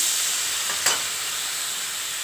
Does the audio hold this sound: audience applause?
no